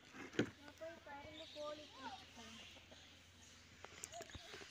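Backyard country hens and Kadaknath chickens kept beneath moringa and neem trees cluck softly in short, pitched calls, faint and close, while a person talks over them.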